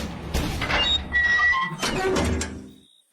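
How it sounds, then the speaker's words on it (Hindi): A loud cartoon door sound at a poor man's house in a village, with several hard knocks and thuds across the clip, a squeaky, sliding quality, and a brief high tone near the end. "दरवाजा खटखटाती हैं"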